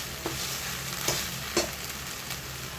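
Sorrel (gongura) leaves sautéing in a pan until they wilt into a paste, a soft steady sizzle broken by a few stirring scrapes, close and with no talk.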